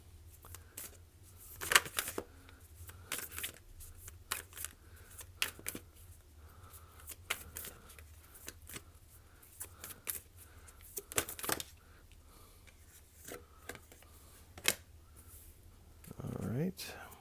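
A Gita tarot deck is handled and shuffled in a quiet room, soft intermittent card flicks and riffles scattered over a low steady hum, with a short louder rustle near the end.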